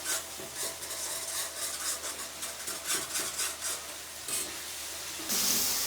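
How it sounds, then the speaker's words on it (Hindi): Spices being stirred and roasted in a pan for beef karahi, a close, continuous scraping and rubbing of a utensil against the pan over a soft sizzle, ending in a brief louder burst of frying. "अब सारे स्पाइसेस डालने के बाद 3 से 4 मिनट भून लेंगे"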